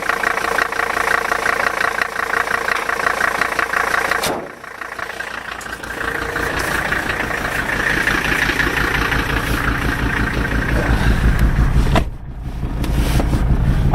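A Toyota 4Runner with a swapped-in OM617 diesel engine drives along, its loud, steady clattering diesel drone close and continuous, dipping briefly twice as the throttle eases, with no talk.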